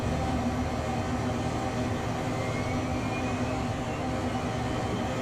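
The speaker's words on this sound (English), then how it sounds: "Right, start up engine 2." Second engine of a Phenom 100 light jet starting in Microsoft Flight Simulator 2024, a continuous loud turbine roar and rumble with a faint rising whine, steady throughout with no talking.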